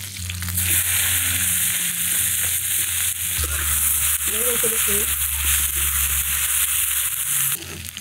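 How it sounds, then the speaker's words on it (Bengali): Fish frying in a wok with chopped onion, garlic, ginger and green chili: a loud, continuous close sizzle with brief stirring and scraping in the middle. "মাছ দুইটা হালকা ভেজে নিলাম, এখন সাইডে পেঁয়াজ কুচি, রসুনের গোলা, আদা কুচি, কাঁচা লঙ্কা কুচি সবই দেবো।"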